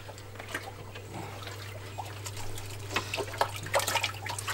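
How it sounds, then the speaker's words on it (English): Water in a reef aquarium sump being stirred while algae is cleaned off its surfaces, giving soft sloshing and trickling that turns busier toward the end, over a steady low pump hum. "now I'm just going to clean the algae off the sump"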